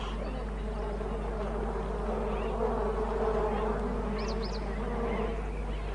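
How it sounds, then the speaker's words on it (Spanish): Bees swarming at a waterhole in hot savanna country give a dense, steady buzzing drone close by, with a few brief higher calls from birds further off. "Intenta beber de un pozo, pero está lleno de abejas."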